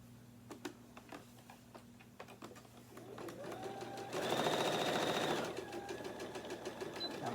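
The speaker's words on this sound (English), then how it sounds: "We're going to sew from here to the pin and backspace." A sewing machine stitches a tote bag in short bursts, with needle ticks and clicks at first, then a louder, sustained whirring run up close before it slows to lighter stitching.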